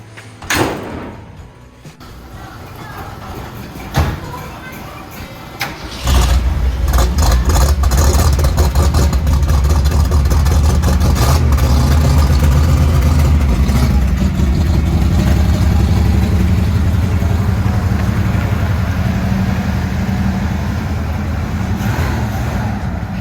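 A 1971 Ford, parked for 34 years, starts with a door clunk and then an engine roars to a steady loud run from about six seconds on, holding a continuous low drone as it drives and slides through snow.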